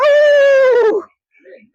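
A dog gives a long, loud, tonal howling whimper that wavers and fades after about a second, followed by a short quiet whine.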